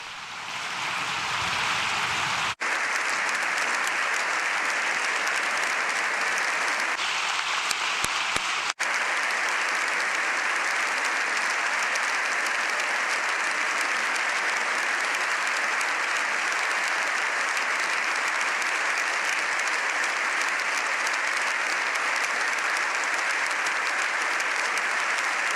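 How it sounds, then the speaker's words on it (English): Sustained applause from a large audience at the Spanish Parliament during Pope Leo XIV's visit, a dense, loud, steady clatter of many hands that holds evenly throughout, with a brief shift early on. "Sustained applause again for Pope Leo"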